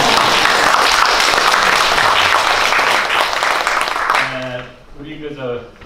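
Concert audience applause swells loud and dense for about four seconds, then thins out as a voice begins speaking over the fading claps.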